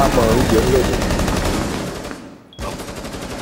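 Rapid gunfire in a tactical shooter game during a bomb-defusal round, loud bursts filling the first two seconds, then fading to a brief lull before firing resumes.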